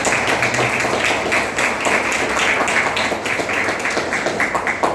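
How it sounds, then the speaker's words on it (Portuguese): A church congregation claps hands together in a dense, continuous patter of applause, loud and close, sustained evenly throughout with no pauses or talking over it. "Bate palmas."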